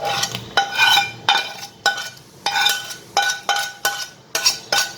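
A spoon stirring fried vegetables into white sauce in a pan, giving a quick series of scraping, clinking strokes at a brisk, fairly regular rhythm, close up and with no talking.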